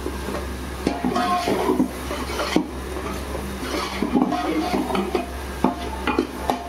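Turmeric cooks in hot oil for kande pohe, a steady soft sizzle with repeated scraping stirs of a spoon against the pan, close and continuous.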